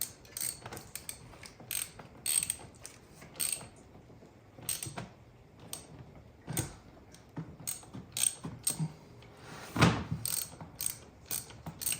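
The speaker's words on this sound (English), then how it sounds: "I'm gonna go ahead and put the ratchet on there" A ratchet working a bolt loose on a Mk7 VW GTI oil cooler, with bursts of rapid clicking pawl ratcheting separated by short pauses, close and clear with no talk.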